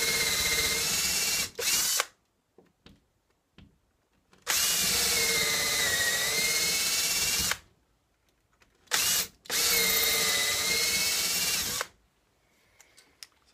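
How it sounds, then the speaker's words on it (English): A power drill whines loudly in three long bursts, each running several seconds with a slight pitch drop as it bores into hardwood timber for coat rack screws, separated by quiet pauses. "I'll drill right through into the timber ready for the screw before I put the rack up"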